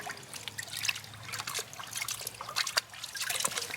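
A king crab shell is rinsed in a bucket of water, giving close, uneven trickles, drips and small splashes that come and go for a few seconds without any speech.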